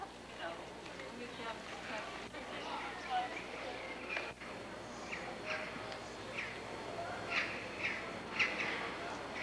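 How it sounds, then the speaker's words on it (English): Birds chirp in scattered short calls at a moderate distance, with faint background voices and ambient outdoor noise. "no matter where we go, you always hear birds"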